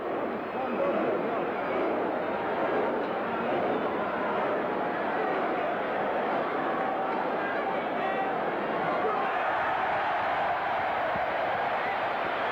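Stadium crowd at the 1987 Hong Kong Sevens Cup final, New Zealand against Fiji, joining in the All Blacks haka: a dense, steady roar of massed voices and chanting, loud and continuous throughout with no clear break.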